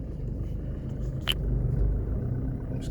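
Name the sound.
car reversing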